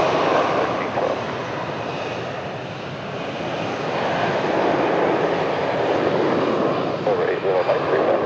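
Airliner taking off from a runway at San Francisco airport, a loud sustained jet roar that swells and wavers over several seconds with an air traffic control radio voice speaking over it.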